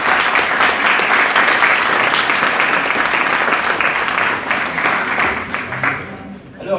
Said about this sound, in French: je pense que vous pouvez tous vous applaudir vous-même